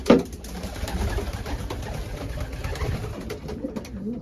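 Racing pigeons cooing in their loft, a steady low murmur of several birds close by with a brief louder flutter or call at the start, no talking.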